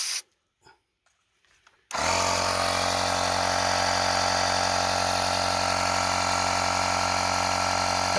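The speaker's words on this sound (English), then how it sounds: "we are going to put some air in that tire. And we're going to do that using this 12-volt little pump" After a couple of near-silent seconds with faint clicks, a 12-volt portable air pump switches on to inflate a car tire, droning loud and steady with a strong buzzing hum and continuous mechanical rattle.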